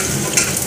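Cumin seeds, dried red chillies and bay leaves sizzle in hot oil as they are stirred in a pan, a brief close crackling hiss.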